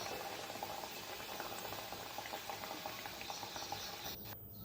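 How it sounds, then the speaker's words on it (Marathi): A samosa deep-frying in already-hot oil, a dense, even bubbling hiss that holds steady for several seconds before a brief drop near the end. "हे आपलं तेल ऑलरेडी गरम आहे, तर ह्याच्यामध्ये हा समोसा तळायला ठेवते"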